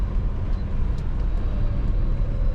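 A 1970 Chevrolet Chevelle Malibu Sport Coupe on the move gives a steady, unbroken low engine and road rumble, moderately loud and even throughout.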